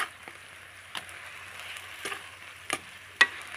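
Pork belly with brown sugar stir-fries in a pan, giving a low steady sizzle broken by a few sharp scrapes and knocks of the spatula at irregular intervals.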